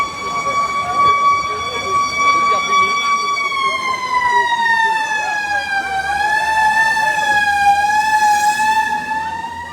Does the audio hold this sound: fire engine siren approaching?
yes